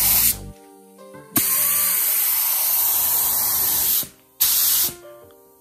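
A $15 Harbor Freight spray gun hisses in loud, steady bursts: a short one, then a long continuous spray, a pause, and another brief blast, close to the mic with no talking.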